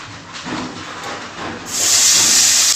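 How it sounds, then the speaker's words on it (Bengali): Potatoes in oil in a wok give off a loud, close hiss that jumps sharply louder and brighter partway through, like fresh food hitting hot oil, with no speech. "আলুগুলোকে ভালো করে তেলে ভেজে নেব"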